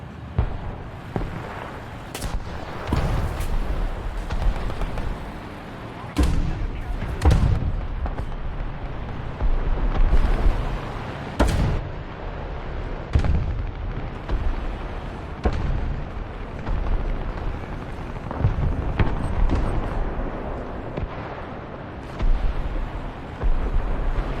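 Machine gun fire from a T-35 multi-turret tank in War Thunder, loud repeated bursts and heavy booming blasts over rumbling battle noise, spread unevenly across a long stretch with no talk.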